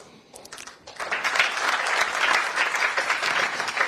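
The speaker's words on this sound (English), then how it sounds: "Another round of applause" Applause from an audience at a formal event with sponsors and a podium, starting from scattered claps and swelling into a full, steady round that stays loud to the end.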